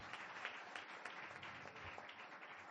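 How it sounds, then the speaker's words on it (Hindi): A congregation at a Hindi-language Christian service claps, a faint, distant wash of applause with slightly uneven bursts and no voices. "जोरदार तालियां विश्वास के साथ यीशु के लिए बजाइए"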